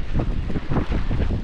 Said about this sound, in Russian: такой ветер. Ужас.